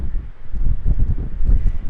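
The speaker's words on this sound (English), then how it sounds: "it's so windy" Strong wind buffeting the microphone on a canyon rim, a loud, gusting low rumble that swells and eases continuously with no talking.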